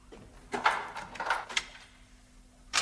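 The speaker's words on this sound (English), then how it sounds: "Open this door!" A door is forced open in a tense wartime setting: a few clattering bangs and scraping knocks in quick succession, fairly faint, with another sharp knock at the end.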